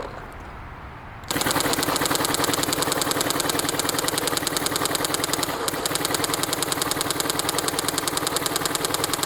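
A Dye DLS or Planet Eclipse CS3 paintball marker fires in a long, fast, evenly spaced string of close, loud pops that begins abruptly after a quiet second and runs without pause.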